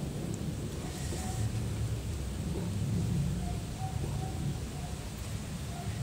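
Heavy rain pours down in Bali with a dense, steady hiss, under a low continuous rumble of thunder that swells and fades throughout. No voices are heard.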